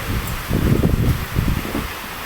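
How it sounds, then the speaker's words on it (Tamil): Strong wind blowing outdoors, a steady low roar with rustling gusts buffeting the microphone for a couple of seconds, no talk. "காற்று செம்ம காற்று"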